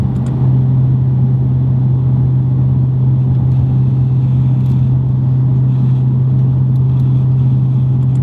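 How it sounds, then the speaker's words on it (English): Audi B8 RS5 with a 4.2L engine and a 2.75-inch valved cat-back exhaust, flap open in sport mode, heard from inside the car as a loud, steady low engine drone that holds constant throughout. "here's the flap open again."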